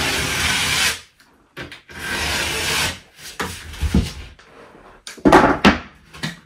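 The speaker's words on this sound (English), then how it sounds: "I put my measurement on there, scored a line, just fold it back, trim it off" A drywall sheet is scored, snapped along the line and trimmed, giving close bursts of dry rasping and scraping with a sharp crack near the middle and short scuffs between quiet gaps.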